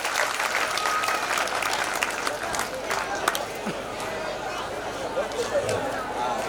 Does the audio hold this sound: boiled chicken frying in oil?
no